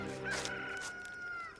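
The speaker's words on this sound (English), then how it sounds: "and a rooster crowed." A rooster crows once in a long, drawn-out call lasting over a second, clear and fairly close, with no talking over it.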